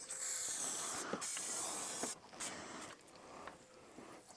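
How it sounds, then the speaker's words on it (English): Spray can hissing a long squirt of flammable starting fluid into an old engine left in a hedge for 26 years, a steady close hiss broken by short pauses and a few small clicks. "Give it a squirt of something flammable."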